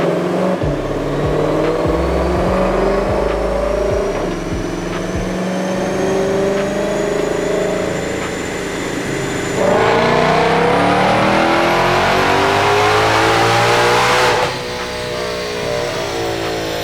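A modified Ford Shelby GT500 V8 fitted with a JLT intake roars through a power pull, its loud engine climbing steadily in pitch through the gears with a brief shift partway, sustained and close with no talking.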